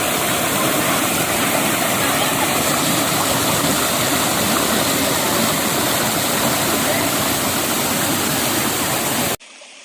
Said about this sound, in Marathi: ह्यो नितळसंग खळखळ वाहणारा पाण्याचा झरा